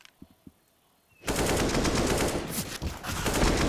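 Sustained automatic gunfire erupts in an esports shooter match, a loud, close, continuous volley that kicks in after a quiet moment with a few soft thumps and carries on to the end.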